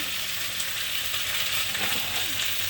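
Chopped vegetables sautéing with a little onion in a pan, a constant close sizzle with a few light stirring clicks, no talk.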